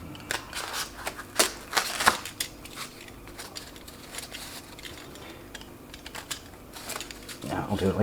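Foam being cut down to size for covering prongs gives a series of irregular crunchy, scratchy cuts and tearing rasps close by, with a louder rustle at the end.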